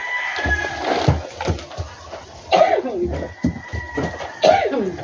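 Several harsh coughs break out in short bursts over a noisy outdoor background during rambutan picking, with voices murmuring nearby.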